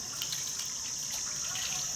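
Tap water runs steadily from a household faucet, a continuous hiss-like gush that stays even and close throughout, with no talk.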